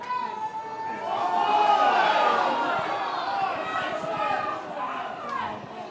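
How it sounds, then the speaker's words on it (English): A rugby crowd at a women's match between Exeter Chiefs and Saracens shouts and clamours about offside, a swelling roar of massed voices that peaks and then eases under the ongoing stadium noise. "we've got some shouts from the crowd about offside"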